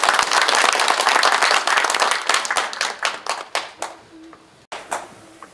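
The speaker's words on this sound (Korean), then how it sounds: "좋은 말씀과 축사를 해주신 황명선 시장님께 고맙다는 박수 한번 크게 부탁드립니다." An audience at an association inauguration ceremony at the Nonsan Cultural Centre gives a loud round of applause, then the clapping thins into scattered claps and a few last isolated ones.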